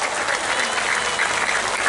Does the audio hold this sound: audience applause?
yes